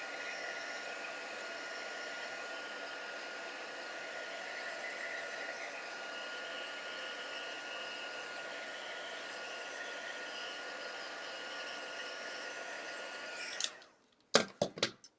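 A heat tool blows in a steady, even roar for about fourteen seconds, melting Stampin' Up heat and stick powder, then cuts off, followed by a few sharp clicks and knocks.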